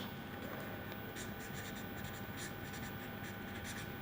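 Pen or marker scratching steadily as a trigonometric formula is written out during a basic formulas lesson, a continuous close, soft stroking texture with short bursts, no talking.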